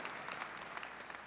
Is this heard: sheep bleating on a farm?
no